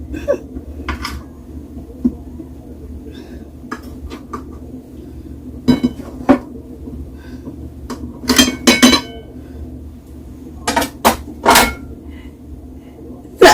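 Knife cutting cheese into cubes on a board, sharp irregular clacks and taps scattered through the scene, some in quick pairs, over a quiet kitchen background.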